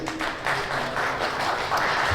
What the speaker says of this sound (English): A little round of applause, please